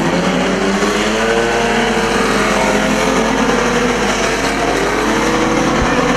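Pre-1975 banger racing car at a Kings Lynn oval, its engine sputtering and cutting out while loud continuous track engine noise from other racing cars fills the scene.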